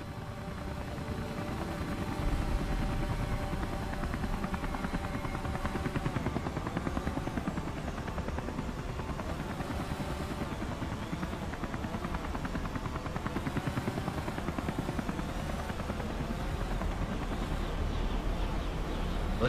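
Comanche helicopter flying in the video game Comanche, a steady close rotor thump and engine whine droning continuously throughout without talk.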